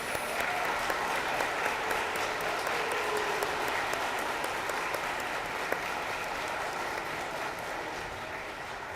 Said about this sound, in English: give one more big round of applause for all of our graduates